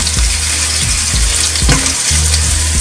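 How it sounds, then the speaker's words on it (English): Chicken and vegetables with broccoli stir-frying in a pan, a steady loud sizzle with repeated scraping stir strokes and clinks of the utensil against the pan. "Stir the broccoli for 2 minutes"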